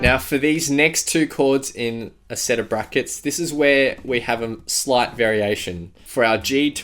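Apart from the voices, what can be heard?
No distinct noise like a dog, phone or traffic.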